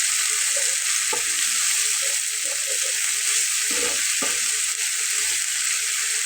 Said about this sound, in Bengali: মশলাটাকে খুব ভালোভাবে ভেজে নিয়ে